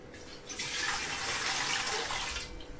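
Water from a tumbler-sized pot pours steadily into a cooking vessel for sugar syrup, a sustained close splashing rush lasting about two seconds before it tapers off.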